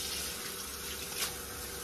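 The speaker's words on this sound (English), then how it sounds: "we're gonna go ahead with cold water, fill this back up while it's sitting" A kitchen tap runs a steady stream of cold water to refill a container of soaking chitterlings, a continuous even rush with no voices.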